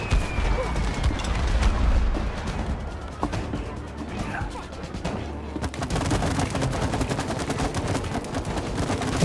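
Rapid bursts of gunfire and crashing impacts fill the It Takes Two video game combat, dense and loud at first, easing briefly, then returning as sharp repeated shots.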